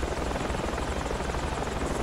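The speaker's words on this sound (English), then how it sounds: "I'm in a helicopter, so I'm just gonna go." A helicopter in the Project Reality game drones loud and close, its rotor thrum and engine buzz holding steady and continuous with no speech over it.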